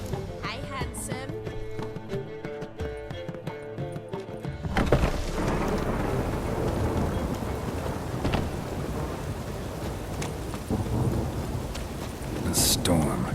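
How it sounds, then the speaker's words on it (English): A thunderstorm in The Witcher 3 brings steady heavy rain and low rolling thunder, loud and close. It follows a few seconds of calmer ambience, and a sharp crack comes near the end. "A storm, damn it."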